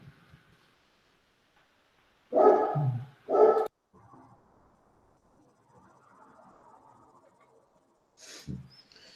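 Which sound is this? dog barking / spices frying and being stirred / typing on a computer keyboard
dog barking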